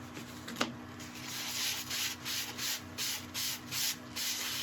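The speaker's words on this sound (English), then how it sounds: "Okay, we're all ready for the True Grit abrasive paste." Abrasive paste rubbed against yellowheart wood spinning on a lathe, a steady hissing friction broken into regular rhythmic pulses as the pad sweeps back and forth, close and moderately loud with a faint motor hum beneath.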